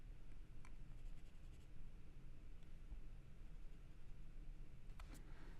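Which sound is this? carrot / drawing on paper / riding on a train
drawing on paper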